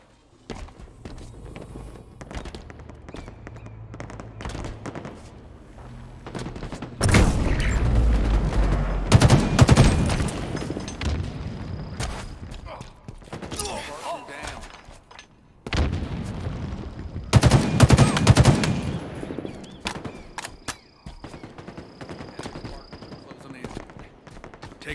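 Gunfire in Halo Infinite big team battle, rapid automatic bursts and heavy shots in two loud clusters, with footsteps and quieter distant fire between them.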